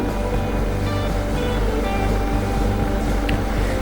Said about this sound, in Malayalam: ഇനി ഇതിലേക്ക് നികത്തെ വെള്ളം ഒഴിച്ചു കൊടുക്കണം.